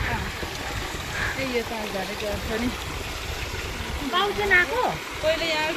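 Water pours steadily from a stone spout at a village water source with five spouts, a constant rushing wash beneath voices talking nearby.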